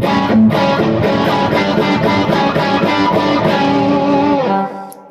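Electric guitar fitted with Amalfitano Firebird pickups on a Delaney Wedge, playing with echo effect: a loud, sustained run of chords and notes with a barky midrange that rings steadily for about four and a half seconds, then cuts off and decays.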